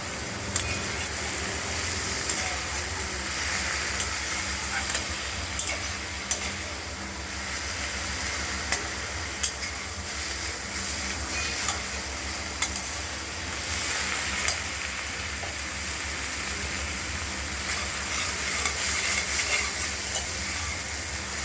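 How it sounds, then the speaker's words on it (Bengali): Ash gourd pieces being stirred and fried in a wok with garlic and nigella seeds, a steady sizzle and hiss with scraping stirs throughout, close and continuous, no talking. "এইভাবে বারে বারে নাড়াচাড়া করতে করতে আমরা চাল কুমড়ো তরকারিটাকে এই যে তৈরি গায়ে আসছে"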